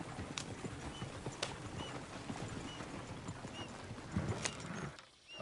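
Steady clip-clop of horse hooves at a walking pace in the video game Red Dead, moderately close, with faint ambient noise and occasional clicks.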